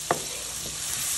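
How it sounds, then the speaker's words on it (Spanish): Onion and garlic frying in a pan and being stirred, giving a steady close sizzle with a brief utensil scrape near the start and no talk. "Vamos a mover bien para que se combinen y no se nos vayan a quemar."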